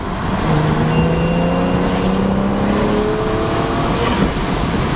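A turbocharged BMW 335i N55 engine roars steadily as the car accelerates hard, rising pitch sweeping upward under a dense rumbling wash of road and wind noise.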